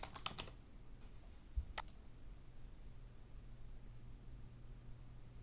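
A few quick keystrokes click on a computer keyboard as a project name is typed, with a short cluster of taps at the start and one more soon after, then a faint steady hiss.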